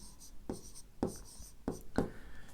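Pen or pencil writing an answer by hand on paper during a fifth-grade math exercise on five-digit numbers, four distinct scratchy strokes at an even rhythm, close and clear with no talking.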